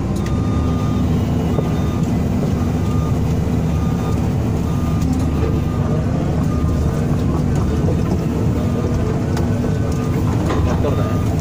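An excavator that had sunk in peat idles at low throttle during its first running test, a loud, steady, unbroken diesel drone with a low hum that holds from start to end.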